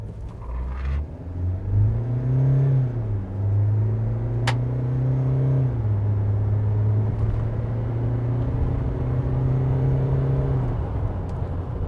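A SsangYong Musso dual-cab ute accelerates hard from a standstill in a timed run, its engine climbing through several gear changes in a loud, sustained droning roar heard from inside the cabin.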